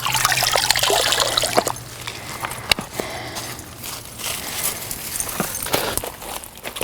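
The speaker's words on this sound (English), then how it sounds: "put them in a plastic tub, we'll fill it with a little water" Water runs and trickles into a plastic tub holding pond plants, a steady close splashing stream that eases partway through, with a few knocks and shuffling sounds around it.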